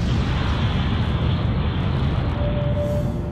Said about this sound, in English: The Bourbon Casino has imploded to make space for MGM's city centre